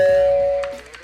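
A doorbell sound effect rings out as a single loud sustained chime tone that fades over about a second, followed by a few faint soft ticks.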